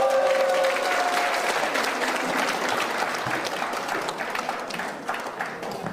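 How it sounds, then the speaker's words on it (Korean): A crowd applauds steadily to welcome KBS reporter Lee Young-poong onto the stage at a talk. The clapping is dense and sustained, easing slightly toward the end. "박수로 맞이하겠습니다."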